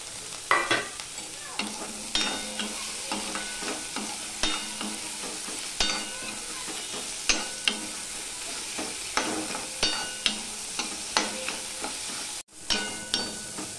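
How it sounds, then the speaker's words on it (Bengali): Tomato and green chilli frying with ginger in a pan, a steady sizzle broken by repeated sharp scrapes and knocks of a spatula stirring, close and without talk. "এবার আমি এখানে টমেটো আর কাঁচা লঙ্কা দিয়ে দিলাম।"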